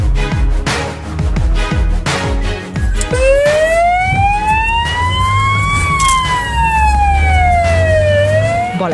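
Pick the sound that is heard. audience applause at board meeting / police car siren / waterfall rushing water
police car siren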